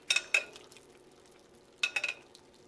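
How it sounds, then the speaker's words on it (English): Turkey breast basted in a hot pan: two close bursts of clattering spoon-against-pan scraping with light sizzling, separated by a quieter stretch of soft frying crackle. "I wanna make sure you baste the turkey breast from time to time"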